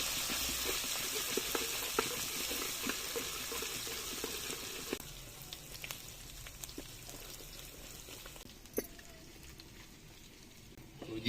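Ginger garlic paste fries in a pan with a steady broad sizzle for Dhaba-style aloo bhuna. The sizzle is strongest at first and eases later, with occasional stirring clicks and no voices.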